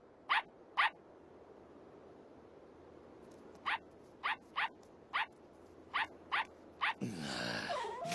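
A dog in an anime park scene gives a string of short, sharp barks or yips in irregular bursts over a quiet background, ending in a rougher, longer growl-like sound.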